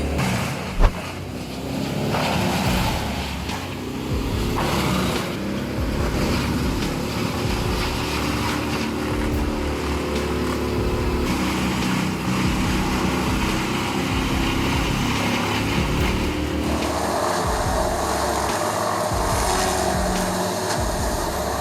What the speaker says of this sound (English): The Moorbark 1300 fires up, shaking the ground with its incredible power.